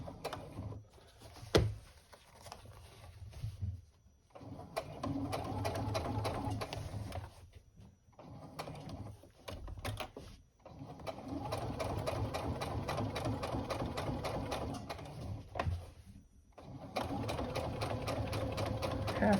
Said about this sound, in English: All right, top stitching across.